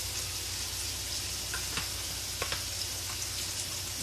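Pork chops seasoned with Lawry's seasoned salt fry in a pan with a steady, close sizzle and a few brief pops and crackles, with no voices.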